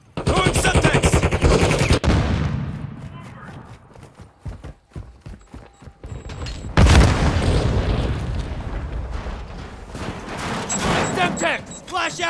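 Grenade blasts and rapid gunfire from Call of Duty Modern Warfare II, loud dense bursts with heavy booms near the start and again midway, continuing through nearly the whole stretch.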